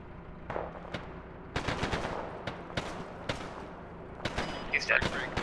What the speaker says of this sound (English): Hearing shots southeast.